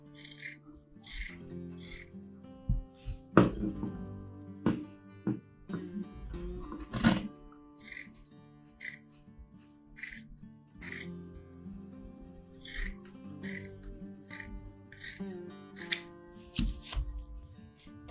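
Scissors cut a fabric band for a puff sleeve, making a series of quiet, crisp snips mixed with soft rustling of cloth, spread irregularly throughout.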